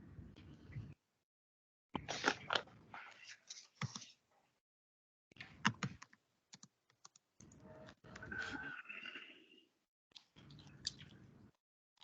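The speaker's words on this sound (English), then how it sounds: "you're typing as well and speaking here" Typing on a computer keyboard comes in short bursts of quick, close clattering keystrokes separated by brief silences, recorded near and alone with no talk.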